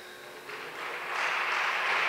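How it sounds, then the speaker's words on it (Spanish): Spectators in a basketball arena break into applause that starts soft and swells to a steady, broad wash of clapping, heard from a distance and without voices. "Bueno, el aplauso."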